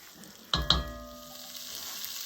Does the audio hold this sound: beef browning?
yes